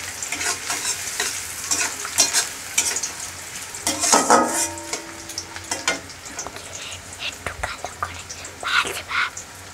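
Sliced onions fry to brown in a pan for a mutton curry, a constant close sizzle under frequent spatula scrapes and clinks against the pan, with a soft voice now and then.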